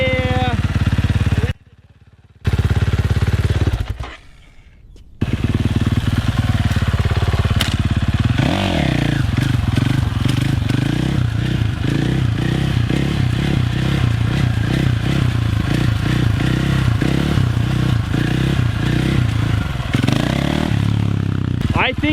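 A dirt bike engine drones loudly and continuously, broken by brief dropouts early on and a clattering, scraping crash as the bike tips over while being ridden blindfolded; the rough running engine dominates throughout, with voices mixed in.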